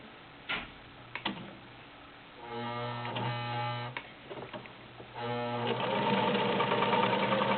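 A vintage Penncrest sewing machine stitches a full scallop decorative pattern, its needle clattering in fast, even ticking bursts that pause briefly between runs, loud and close with no talk.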